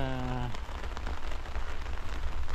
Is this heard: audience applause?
no